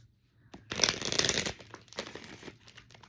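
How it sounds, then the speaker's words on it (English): Tarot cards are shuffled by hand in one quick riffling burst, crisp papery flutter lasting about a second, followed by a few softer card shuffles close to the microphone. "Get one more shuffle."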